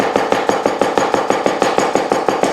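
A knife chops garden onion on a cutting board in quick, even, close strokes, about a dozen crisp thuds in a fast steady rhythm with no talking.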